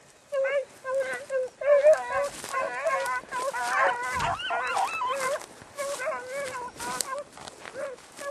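Several dogs bark, yip and howl together outdoors, a dense overlapping chorus of wavering howls and sharp barks, close and loud, with a person's voice talking among them.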